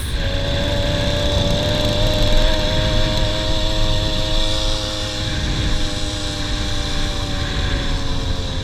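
A motorized bicycle engine labours at full throttle during an endurance and hill test, giving a loud, steady, buzzing drone close by for the whole stretch with slight wavering in pitch and no talking.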